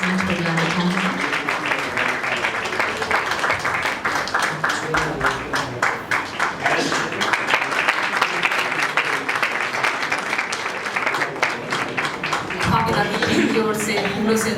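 An audience at a ghazal musical night gives dense, sustained applause for performers being welcomed onto the stage. The clapping runs loud and unbroken for the whole stretch.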